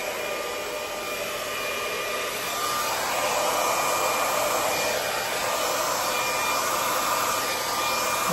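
A hair dryer blows steadily over poured acrylic paint, a loud continuous whooshing hum that holds throughout and swells slightly partway through.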